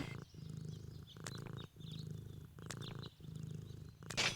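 A cat in the video game Deponia purrs in slow, regular rhythmic pulses, quiet and close, about six breaths in a row with a brief higher chirp at the end.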